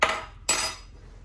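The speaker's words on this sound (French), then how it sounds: "On peut utiliser une cuillère pour bien aplatir nos biscuits à la cuillère au fond de notre verre." A metal spoon clinks and scrapes against a glass verrine while pressing ladyfinger biscuits flat for raspberry tiramisu, two short bright contacts close up with a pause between.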